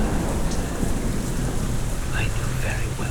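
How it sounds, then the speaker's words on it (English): Rain falls in an audio drama set in an opera house, a dense even patter for about three seconds with a low rumbling undertone. "For we now heard rain."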